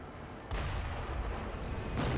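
Mortar cannon in Sekiro firing, a heavy booming blast at about half a second followed by rumbling, with a second loud burst near the end over a dense noisy game background.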